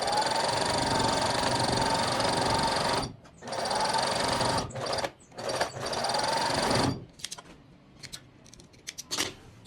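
A sewing machine stitches a side seam on a garment set, lining one seam up on top of another. It runs in a steady, fairly loud whir for about three seconds, then in shorter stop-start bursts with brief pauses between them.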